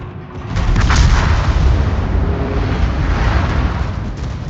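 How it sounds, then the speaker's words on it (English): Anti-aircraft guns on a warship in World of Warships fire in a loud, dense barrage of booms and crackling blasts that rise quickly and rumble on steadily. "Anti-aircraft gun crews are on full alert."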